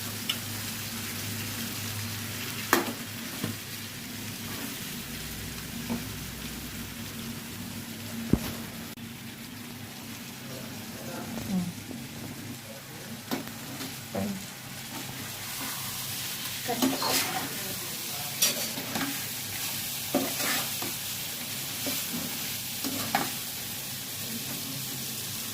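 Prawns frying in a pan for biryani, a steady broadband sizzle with occasional scraping stirs and clinks of a utensil against the pan, continuous and fairly close.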